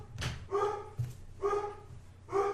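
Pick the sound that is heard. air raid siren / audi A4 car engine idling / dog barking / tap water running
dog barking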